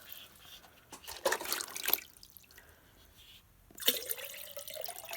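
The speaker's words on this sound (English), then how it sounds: "I'm going to fill it up with water." Water pours into a pitcher in short bursts, splashing and trickling against the container with quiet pauses between pours, close and moderately faint.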